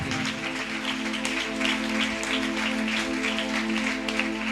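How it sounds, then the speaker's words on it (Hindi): A church congregation claps together at a Friday prayer meeting, a steady dense patter over sustained droning tones, continuing evenly throughout. "आइए ताली बजाएं, प्रभु को महिमा दें"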